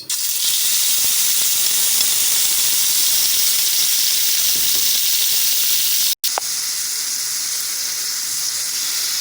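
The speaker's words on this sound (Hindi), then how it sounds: "पैन में मैंने 2 टेबल स्पून ऑयल डाल दिया। अब मैं इसमें शामिल कर दूँगी चिकन।" Chicken pieces sizzle in about two tablespoons of hot oil in a pan, a loud, continuous frying hiss that cuts out for a split second partway through and then carries on steadily.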